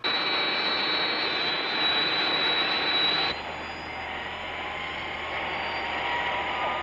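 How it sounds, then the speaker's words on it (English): An aircraft engine roars steadily nearby with a sustained jet whine, then drops abruptly to a lower, duller drone. "There must be an aircraft in the vicinity."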